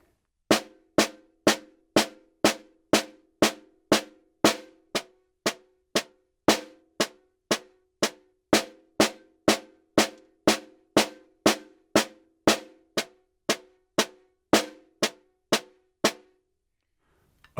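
A snare drum is played in a fundamentals exercise mixing rebound strokes and squeezed downstrokes, giving about thirty evenly spaced crisp hits with slightly varying accents. The strokes ring close and dry with no voices.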